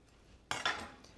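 A knife and spoon cut and scoop avocado for guacamole, giving a brief metallic scrape and clink, two quick close contacts that fade out.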